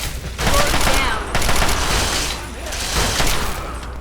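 Video game gunfire from Fallout 3 crackles in several bursts of rapid shots, loud and close, separated by short pauses, with a faint voice underneath.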